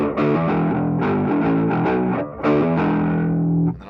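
An electric guitar played through an Electro-Harmonix POG octave pedal into a Soul Food distortion rings out with thick, octave-doubled distorted chords and notes, loud and close, with a brief gap before a final sustained phrase.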